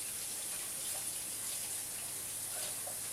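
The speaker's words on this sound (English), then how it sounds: "hold on, I got to wipe this off." Tap water runs steadily as hands are washed off under a faucet, a soft continuous gush with faint splashes, alone and at moderate distance.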